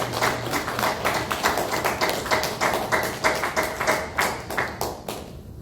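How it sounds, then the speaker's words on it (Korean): A church congregation at a Sunday service claps in encouragement, a steady crowd of close hand claps with a loosely rhythmic pulse that fades out near the end. "우리 모든 사람들 격려의 박수로 열심히 일하라고 우리 격려의 박수"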